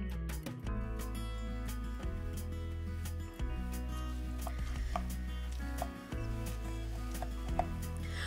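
Cooked Boston butt pork is pulled and chopped with a series of soft, irregular knife taps and thuds on a board, quiet and close over a low steady hum.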